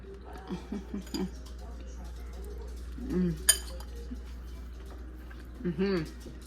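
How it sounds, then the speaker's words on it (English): A utensil clinks and scrapes against a bowl of cottage cheese in a few short bursts of mixing, fairly quiet, with a voice speaking in between. "I'm gonna mix everything together."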